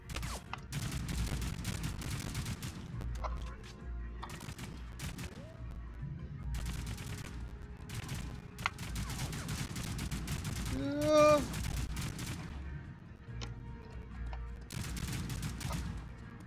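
Rapid bursts of gunfire fill a Plastic Warfare video game match, with repeated volleys and fusillades crackling loudly, then pausing and starting again, while voices are briefly heard in the background.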